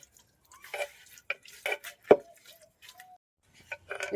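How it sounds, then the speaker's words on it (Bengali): Ripe mangoes, stones removed, are squeezed and mashed by hand for a sherbet, producing sparse wet squishing and dripping sounds, close and quiet, with silent gaps between squeezes. "এভাবে আমগুলো চটকিয়ে নিয়েছি"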